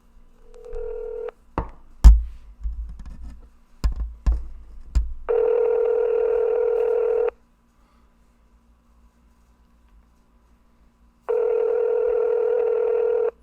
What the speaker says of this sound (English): we need to make a phone call